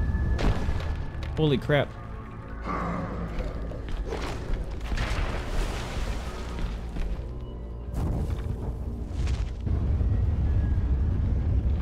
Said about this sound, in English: We got a missile coming at us.